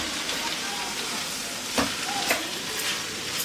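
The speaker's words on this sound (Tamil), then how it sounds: "கீரையை நல்லா இந்த இதுலேயே வதக்கி விடுங்க." Drumstick leaves sautéing in a pan for murungai keerai poriyal, a soft steady sizzle with a couple of brief stirring scrapes, no speech.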